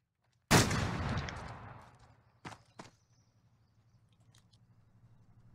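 Crossbow against sniper rifle in a first-person shooter game: one loud close shot with a long decaying tail, followed by two sharper, quieter cracks about a second later, then near silence.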